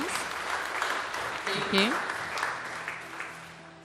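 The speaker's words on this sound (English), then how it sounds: "Let's clap for her as she comes." An audience claps steadily for Madam Pauline Karirwa at a company end-of-year party, a continuous wash of applause with a voice speaking briefly over it.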